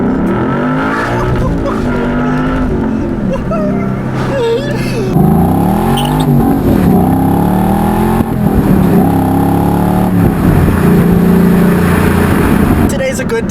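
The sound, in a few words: 2013 Ford Mustang Boss 302 V8 accelerating hard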